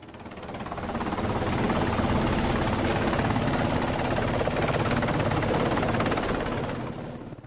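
A helicopter hovers and lifts off over an aircraft carrier flight deck after in-flight refueling, its rotor thudding in a loud, continuous drone that swells up and fades slightly at the end.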